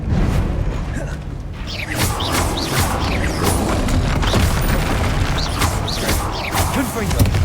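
Confringo spell blasts in the video game Hogwarts Legacy, a loud chaotic run of booms, crashes and whooshing impacts over heavy combat effects and shouting voices, with the bursts landing in quick succession.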